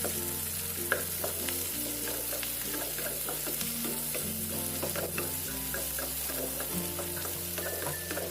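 Garlic and onion fry in a pan at home, a steady soft sizzle with occasional stirring clicks and scrapes, close and continuous, with a faint low background hum and no talk.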